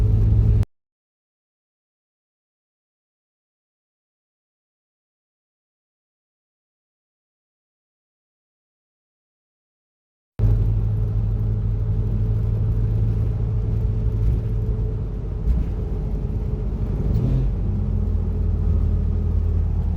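A vehicle engine cruising at about 60 mph near 2,000 RPM gives a steady, loud low rumble. It is cut off early by roughly ten seconds of silence, then resumes and holds evenly to the end with no talking.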